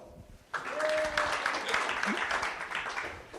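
An audience claps at a venture capital panel event, the applause starting abruptly after a quiet moment and holding as a dense, even roar of many hands, with murmured voices mixed in.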